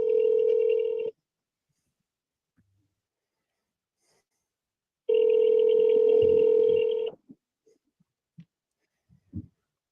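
Telephone ringback tone on an outgoing call while waiting for voicemail to answer: two long, loud electronic ring bursts separated by silence, followed by a few faint clicks and handling noises.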